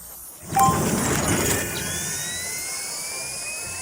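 A loud whooshing engine-like roar surges up suddenly and settles into a steady whine with a rising high tone, like a magical sleigh engine starting.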